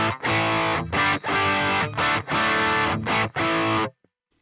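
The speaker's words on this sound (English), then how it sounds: "Now pedal wise, I'm going to keep the tube screamer on." Electric guitar played through a Boss GT-1000 with tube screamer distortion, loud sustained chords in several phrases separated by brief gaps, ending abruptly with a short tail of silence.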